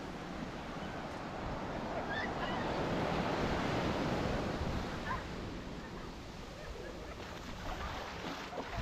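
Surf rolls onto the empty sand of Playa Farallon in Rio Hato, Panama, a steady wash of breaking waves with gusts of wind buffeting the microphone, fairly close and continuous.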